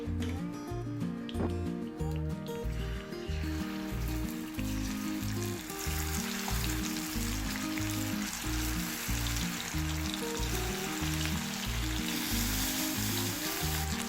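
Fish fries in hot oil with curry leaves, a continuous dense sizzle and crackle that holds steady throughout the fourteen seconds, alone with no talking.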